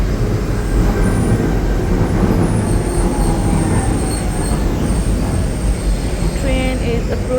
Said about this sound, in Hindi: ट्रेन इज़ अप्रोचिंग, बट ये मेरी ट्रेन नहीं है, मैंने नेक्स्ट ट्रेन में जाना है